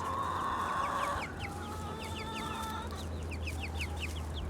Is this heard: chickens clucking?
yes